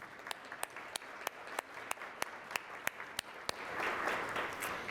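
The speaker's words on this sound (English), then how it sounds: "So please let's give them a round of applause." Audience applause for forum sponsors at a civic event: a steady wash of clapping with sharp individual claps standing out at an even rhythm, swelling louder toward the end, heard alone with no talk.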